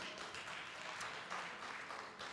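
Audience applause greets two tournament fighters, Ruslan Karaev and Badr, at a FINAL8 fight tournament draw, a steady, fairly faint wash of clapping sustained throughout without speech.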